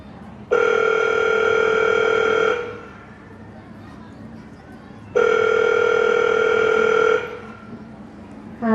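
A telephone is dialed during a stage performance: two long steady electronic tones, each lasting about two seconds with a pause between, clear and fairly loud over a low room hum.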